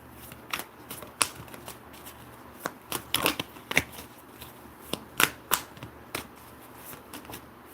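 Tarot cards being shuffled by hand during a live reading, a run of crisp riffling snaps and soft flutters at an uneven pace, close and fairly quiet with no talking.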